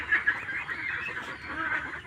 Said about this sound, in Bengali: এইমাত্র হাঁসগুলো খোলা মাঠ থেকে খেয়ে এই ঘরের মধ্যে আসলো